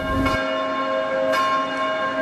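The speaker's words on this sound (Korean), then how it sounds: "도시 한복판에서 이런 종소리가 들려요?" A church bell ringing in the middle of a city neighbourhood in Daeheung-dong, two clear, resonant strikes about a second apart with long humming tails, loud and close, with no talk.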